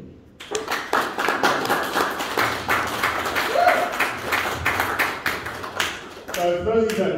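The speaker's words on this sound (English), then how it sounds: "applause for Josh Ritchie" A stand-up comedy audience in Rangiora, New Zealand applauding a comedian: a fast rhythmic burst of clapping that swells and continues steadily for several seconds before a voice briefly cuts in at the end.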